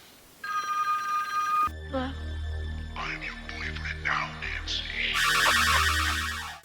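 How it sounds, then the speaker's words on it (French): A telephone rings in the horror film A Nightmare on Elm Street: a steady electronic ring at the start, then mixed murmuring sounds, before a louder, harsher ringing returns near the end. "Juste avant la mort de Glenn, Nancy reçoit un appel de Freddy."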